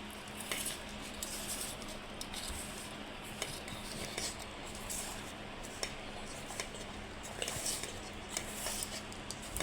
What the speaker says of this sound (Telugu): దాంట్లో వేసి మొత్తం ఇట్లా కలిపి వేయాలి